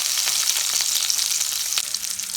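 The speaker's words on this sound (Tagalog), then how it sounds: "Brown na konti yung ating sibuyas saka yung bawang." Onions and garlic fry in a pan with a bright, dense, continuous sizzle, loud and close, with a few faint stirring touches underneath.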